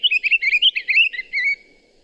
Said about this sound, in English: So here's a pine grosbeak for you.